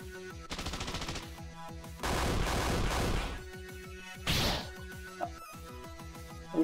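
Video game gunfire rips out in a dense burst lasting about a second, then a shorter sharp volley follows, both loud and close over steady in-game music.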